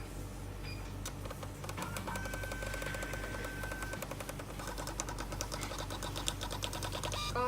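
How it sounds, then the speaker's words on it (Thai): A NITA iSH58 two-inch thermal receipt printer, connected over Bluetooth or Wi-Fi, prints a receipt with a continuous quiet mechanical whir and fine rapid ticking, steady for several seconds at close range. "สามารถพิมพ์ตัวใบเสร็จที่เรา จ่ายเงินผ่านแอปนี้ให้กับลูกค้าเราได้เลยนะคะ"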